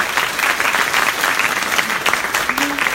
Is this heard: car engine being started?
no